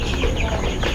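Chickens clucking on a small broiler poultry farm, a steady close cluster of hen calls and cackles running continuously through a short moment with no talk.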